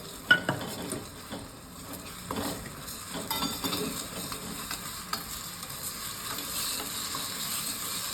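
Soft sizzling of crushed chilies in hot oil, with a few clinks and scrapes of a utensil stirring the pan, quiet and close.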